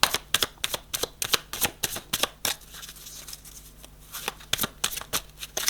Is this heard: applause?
no